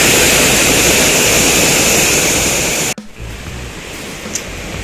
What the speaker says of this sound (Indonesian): aliran sungai dan aliran air terjunnya juga menjadi sangat deras